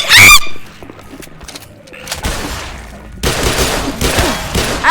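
Gunfire with a ricochet in the Black Mesa roleplay mod for GMod: a loud burst up front, then a quieter stretch, then dense, sharp bursts of shots toward the end.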